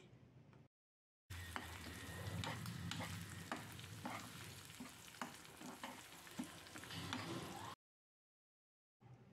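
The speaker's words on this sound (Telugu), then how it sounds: "ఇప్పుడు స్టవ్ ఫ్లేమ్ సిమ్లో పెట్టుకొని మెల్లగా కలుపుతూ ఎగ్ అన్నీ మిక్స్ అయ్యేలాగా కలుపుకోవాలి." Beaten egg stirred in a hot pan over a low flame for masala egg fried rice, giving a steady soft sizzle with repeated scraping strokes of a spatula, close and alone between brief silent gaps.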